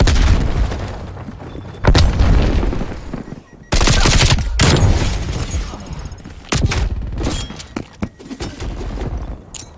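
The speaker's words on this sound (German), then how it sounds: "Werfe Granate." A thrown grenade bursting in Call of Duty Black Ops Cold War multiplayer, amid sharp loud blasts and rapid gunfire in several separate bursts.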